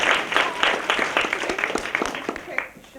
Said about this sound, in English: this is one round of applause for our panel.